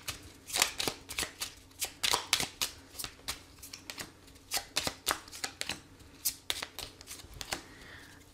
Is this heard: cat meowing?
no